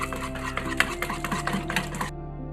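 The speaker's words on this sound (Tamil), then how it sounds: "இதை நல்லா பீட் பண்ணிக்கோங்க" Eggs for popcorn chicken are beaten in a bowl, producing quick, rhythmic tapping and scraping clinks of utensil against dish, close and moderately quiet, with no voices, before the sound stops abruptly.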